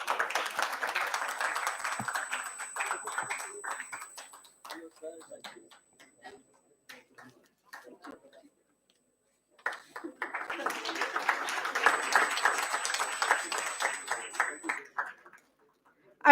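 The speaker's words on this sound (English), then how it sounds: "In another round of applause" Applause from a conference audience at an international media event rises in a dense burst, fades to scattered claps and near silence, then swells again into a second strong round before dying away.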